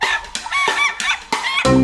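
An ayam ketawa, the Indonesian laughing chicken, crows in the slow style, giving a run of separate, drawn-out harmonic calls at close range with brief breaks between them and no speech.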